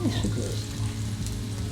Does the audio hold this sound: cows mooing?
no